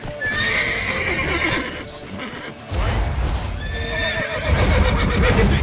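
Horse neighing and whinnying over repeated clip-clop of hooves in The Witcher 3, loud and close, with a burst of heavier hoofbeats partway through and amid game battle ambience.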